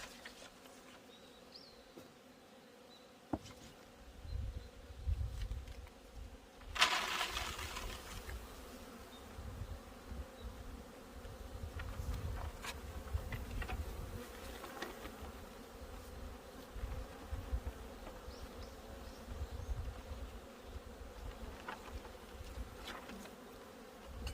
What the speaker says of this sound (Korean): 꿀벌을 한가득 쓸어 담았습니다.